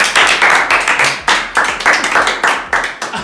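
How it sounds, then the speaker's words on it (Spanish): A small group clapping in a gymnasium, loud close hand claps in a quick uneven rhythm, repeated bursts with short gaps, no talk over them. "Un aplausito."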